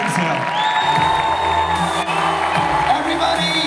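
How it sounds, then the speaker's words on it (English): A crowd at a fan convention panel in Salt Lake City whoops and cheers for actress Kate Beckinsale, a steady, dense roar of voices with shouts rising above it for the whole stretch. "Give a round of applause."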